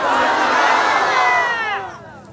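A large crowd at a religious sermon shouts together loudly in response to the preacher. It is a dense, sustained roar of many voices that fades toward the end.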